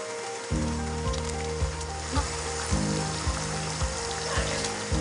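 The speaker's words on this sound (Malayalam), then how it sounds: "ഇപ്പോൾ ഗ്രേവി തിളച്ച് വരുന്നുണ്ട്." Fish curry gravy bubbling in a pot as one kilogram of fish pieces goes in, a steady sizzling hiss with a low rhythmic bubbling pulse repeating about every half second, no talking.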